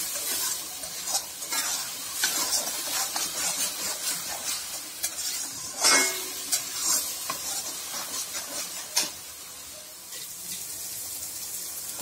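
Spice masala for baigan kalonji fries in oil and is stirred in a pan. A continuous sizzle carries repeated scraping strokes and occasional louder spatula knocks, close and busy, with no voices.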